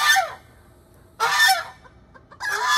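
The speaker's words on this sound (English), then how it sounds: "There's Papa Goose." A male goose honks loudly and close by, three harsh, nasal calls spaced about a second apart with quiet pauses between them.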